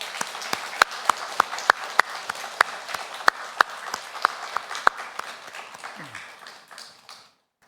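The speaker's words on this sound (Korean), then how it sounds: "모든 찬양과 영광을 받으시기에 합당하신 하나님께 이제 감사의 박수를 올려드리겠습니다." A church congregation gives thanksgiving applause during a Sunday worship service. A few sharp, rhythmic claps ring out in a reverberant hall over softer scattered clapping, then fade into quiet near the end.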